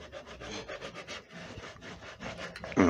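Filler being rubbed by hand into a punky, decaying wooden bowl during woodturning repair: a steady, close scrubbing and rasping friction that continues in uneven strokes throughout, ending in a louder knock or scrape.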